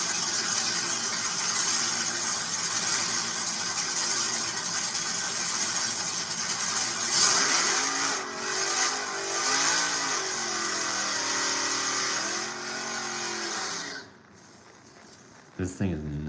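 A pickup truck with a 5.7 engine revs with a deep, throaty rumble, rising and falling in a few surges before dropping off near the end, while people talk nearby.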